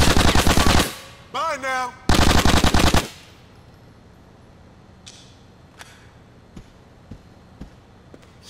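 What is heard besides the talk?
gunfire in the video game GTA: The Ballad of Gay Tony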